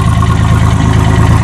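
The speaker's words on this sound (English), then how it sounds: "Let me show you this custom exhaust job I did." A 1992 Ford Ranger engine with a cut-off custom exhaust and bad muffler rumbles loudly and close, a steady throbbing idle with a low pulsing drone and no voices.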